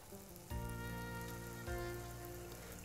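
Batter hits hot oil and sizzles steadily, with two fresh bursts of crackling frying as more is poured in, close and constant with no talking.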